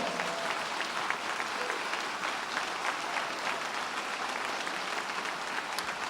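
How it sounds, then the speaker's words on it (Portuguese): A church congregation applauds steadily at a worship service, a dense wash of many hands clapping at even strength throughout, with no voices standing out. "Você pode aplaudir ao Senhor?"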